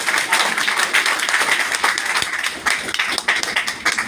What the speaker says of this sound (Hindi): ताली तो कम से कम बजाइए।